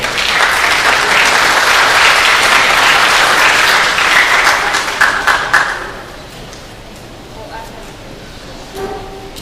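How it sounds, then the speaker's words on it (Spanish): Loud audience applause at an academic law convention welcomes an association president, a dense wash of clapping that fades out after about six seconds, leaving quiet room noise and a few faint sounds. "Vamos a recibirle con un aplauso"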